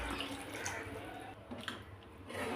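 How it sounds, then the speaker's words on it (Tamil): Water streams and splashes steadily into a pan, a continuous pouring wash with small spattering bursts. "இப்போ நம்ம ஒரு 2 டம்ளர் அளவுக்கு தண்ணி ஊற்றிக்கலாம்"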